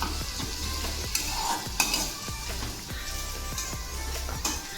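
Onions sizzle in hot oil in a pan while a spoon stirs them, producing steady frying hiss punctuated by repeated scraping strokes and small metallic knocks, close up.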